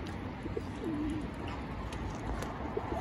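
Pigeons coo softly nearby in low, rolling calls against a steady outdoor murmur, with a few brief bird sounds scattered through the short stretch.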